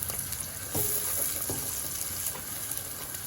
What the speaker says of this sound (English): fresh green chillies. And I'm going to fry them for a couple of minutes as well.